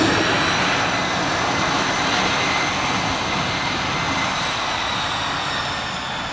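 Fixed-wing airplane taking off from runway 26 left at Spirit of St. Louis Airport, a steady broadband engine roar, loud and close, holding through the whole stretch with no talk over it.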